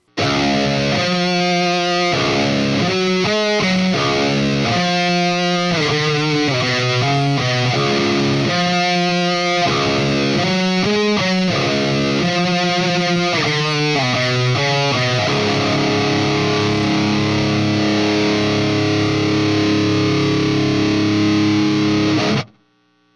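Heavily overdriven electric guitar through an EVH 5150 III amp with an overdrive pedal plays choppy riffs with stops, then lets a big distorted chord ring out and sustain before cutting off.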